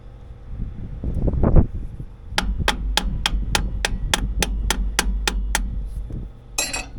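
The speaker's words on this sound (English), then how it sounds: "a 2-pound sledge is the best way to do that" A 2-pound sledgehammer strikes a part on a Caterpillar D6 dozer in a rapid, steady series of about a dozen sharp metallic blows outdoors, following some rustling handling noise.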